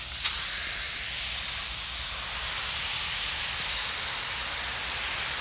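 After a small click, a spray gun spraying water-based paint lets out a steady, loud hiss that continues unbroken and even until the end.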